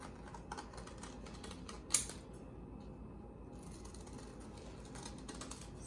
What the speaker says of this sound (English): I'm just going to cut a leaf out. Let's just cut a couple here.